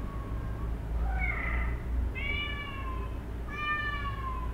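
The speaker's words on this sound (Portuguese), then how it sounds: "Olha, criançada, é o gato." A domestic cat meows several times, rising and falling cries with a clear tonal quality over a low background hum, close and fairly loud, with no talking.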